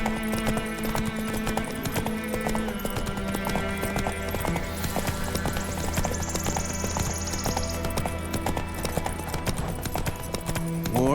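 In The Witcher 3, the horse Roach gallops with rapid, rhythmic clip-clopping hooves that run throughout, mixed with game ambience and a brief whinny.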